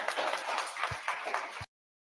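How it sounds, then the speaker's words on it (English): A crowd applauds steadily, a dense wash of many hands clapping that cuts off abruptly. "give yourself another hand of applause"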